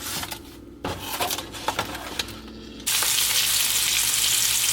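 Eggs and bacon frying in a pan, with scattered clicks and clatter at first, then a loud, continuous sizzling hiss filling the last couple of seconds.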